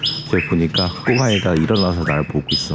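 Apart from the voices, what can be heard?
birds chirping in the morning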